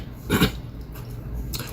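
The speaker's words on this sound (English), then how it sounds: "let me clear my throat" A man clears his throat in one short, rough burst near the start, followed by quieter breathy noise and a faint second throat sound at the end.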